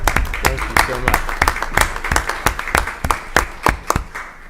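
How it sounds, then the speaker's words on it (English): Scattered applause at a school board meeting, distinct individual claps spaced irregularly across the room, fairly close, with people talking and murmuring underneath. "We're going to clap for you, even though you don't want to."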